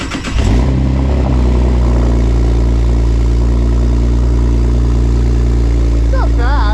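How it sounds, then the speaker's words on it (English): Straight-piped Camaro V6 revving loudly up close, a sharp rise in pitch that settles into a steady, deep, rumbling high idle that holds to the end. "Just wait, it revs high and then it goes down. Sounds like a V6, but it's got a little bit of a rumble."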